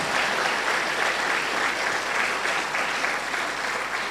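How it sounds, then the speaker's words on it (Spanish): A church congregation gives a steady, continuous round of applause for the Lord, with broad, even clapping sustained throughout at a moderate distance. "Dale un aplauso al Señor"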